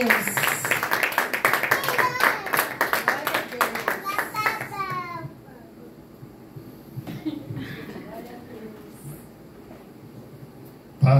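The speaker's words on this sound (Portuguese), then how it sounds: "Louve ao Senhor com suas palmas." Church congregation clapping along in worship, a dense run of rhythmic claps mixed with voices and a child's chatter, then fading to quieter murmuring with scattered sounds.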